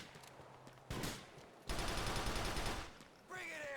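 Gunfire in the GTA 4 video game, with a shotgun-wielding enemy nearby: a few loud, sustained bursts of shots with quieter gaps between them, heard close.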